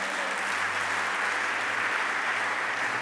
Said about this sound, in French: Quelqu'un acclame bien si tu le crois.